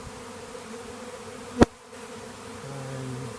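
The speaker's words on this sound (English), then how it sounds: "There appears to be more and more bees crowding in right here." A honey bee swarm gathering on a corner in Forest Hill, Maryland in May hums as a low, steady drone throughout, with one sharp tap cutting through midway.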